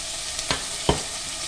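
Ginger sautéing in hot oil for sinigang na bangus, a steady close sizzle with two sharp stirring scrapes cutting through, no voices.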